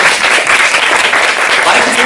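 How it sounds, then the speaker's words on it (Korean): Audience applause welcoming a lecturer to a Seoul National University religious studies class on meditation, a dense, steady wash of clapping that fills the whole short moment, loud and close. "큰 박수로 한바다 선생님 환영해주십니다"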